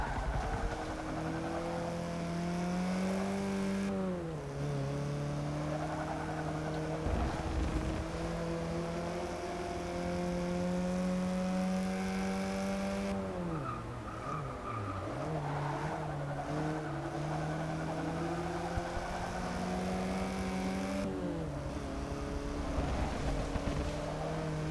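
A 109-horsepower Porsche engine in Forza Motorsport 6 drones steadily, the pitch climbing through each gear and dropping sharply at every shift, with faint tire noise and no talk.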